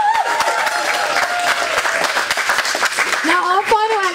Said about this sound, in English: Let's keep the applause going again for the Young Urban Artists Foundation.